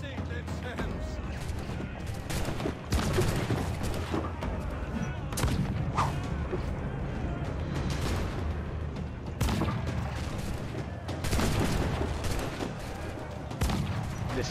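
Cannon fire in a video game, heard as a dense run of booming blasts and crackling explosions that keep going throughout, loud and up close, with chatter and a mix of other game sounds.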